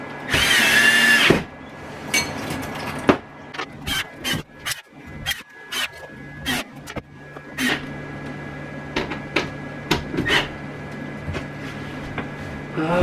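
Power drill driving screws to refasten the top of an RV bed frame: a long whirring run at the start, then a series of short, sharp bursts and clicks spaced irregularly, close and moderately loud with some rubbing and handling noise between.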